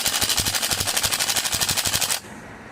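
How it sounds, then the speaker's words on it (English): Big impact gun hammering off the top suspension bolt on a Ford Fiesta with an 18mm deep socket: a loud, fast, steady rattle of rapid blows for about two seconds, then it stops abruptly, leaving quiet room tone. "I'm just going to put that in there and get our big impact gun on there."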